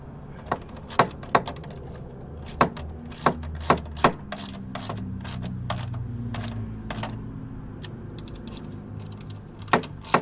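A lock nut is tightened onto a skid shoe bolt of a Toro 60-volt battery-powered snowblower. Sharp, irregular metallic clicks and ratcheting taps sound close up over a faint background hum.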